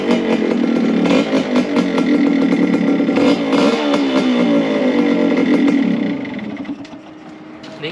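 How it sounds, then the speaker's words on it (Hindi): Yamaha RX 100 two-stroke motorcycle fitted with a chamber exhaust starts up and revs, a loud, raspy, buzzing engine close by with throttle blips, settling to a lower idle toward the end. "चलिए मैं करता हूँ बाइक को स्टार्ट।"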